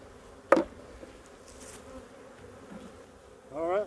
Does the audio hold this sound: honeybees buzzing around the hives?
yes